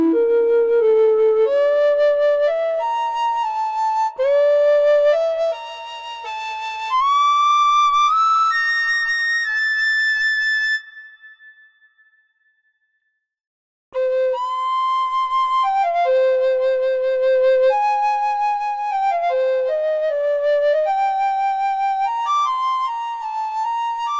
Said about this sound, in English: You've got five different recorder types here with a natural vibrato and glissando playback.